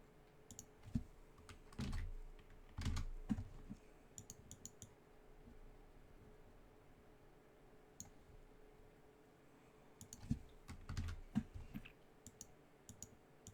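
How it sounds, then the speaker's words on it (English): A squeaky computer keyboard produces bursts of sharp clicking keystrokes that come in clusters separated by quiet pauses, close and faint, with no talking. "Sorry, my keyboard is squeaky."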